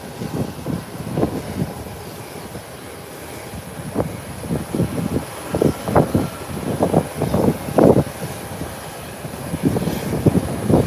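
An American Airlines Airbus A321 from Charlotte lands with a steady, moderately loud broadband jet roar, interrupted by a series of rumbling surges and thumps as it touches down and rolls out.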